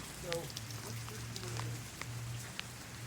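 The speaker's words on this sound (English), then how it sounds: "It's been raining non-stop all day." Continuous rain pours down on a wet day, a soft, steady hiss of drops hitting surfaces, with faint voices briefly in the background.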